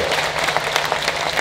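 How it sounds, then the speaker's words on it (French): An audience at an awards ceremony applauds for Mali, a dense burst of many hands clapping with faint crowd murmur and a low hum beneath. "Je ne sens pas les applaudissements pour le Mali."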